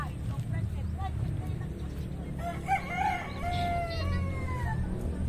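A rooster crows in the middle distance on a pig and chicken farm, one drawn-out wavering call with clucking around it, over an outdoor background hum and faint talk.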